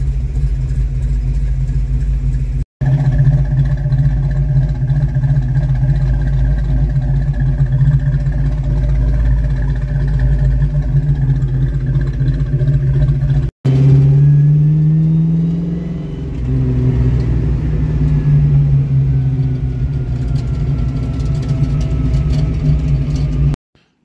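A 1982 Ford Mustang V8 runs loud and close, idling steadily, then rises in a revving surge as the throttle is stabbed. It settles back to a rumbling idle, with no talking.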